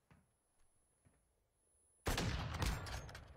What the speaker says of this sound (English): Oh, this is a sniper.